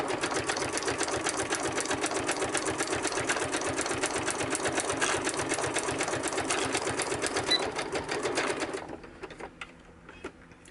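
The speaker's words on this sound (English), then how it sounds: "So now I'm going to back stitch." A sewing machine back stitching at steady high speed, a rapid even clatter that runs loud and close before stopping near the end, leaving a few faint clicks.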